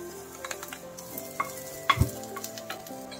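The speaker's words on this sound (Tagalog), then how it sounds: "ilalagay na natin mga suki yung ating bawang." Garlic sizzles in a hot pan with chicken breast, giving a continuous close hiss with small ticks and a solid knock of a utensil against the pan midway, no voices.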